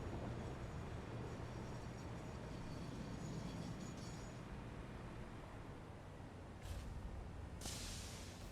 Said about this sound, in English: Oh no, the train's still running.